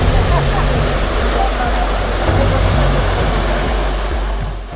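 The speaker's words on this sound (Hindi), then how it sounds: "पानी की ये तेज धारा है 100 गुना से भी ज्यादा शक्तिशाली है" A strong, fast current of the Sita River rushes loudly and continuously close by, a dense roar of churning water that fades slightly at the end.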